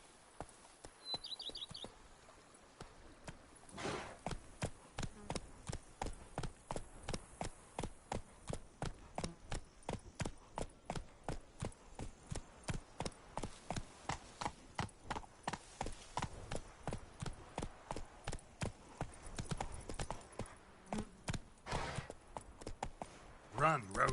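Hoofbeats of the horse Roach galloping in the video game The Witcher 3, a steady rhythmic clip-clop that runs throughout at moderate volume, with brief bird chirps early on.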